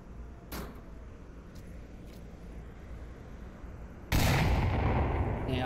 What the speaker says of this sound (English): Shots ringing out from Vegas.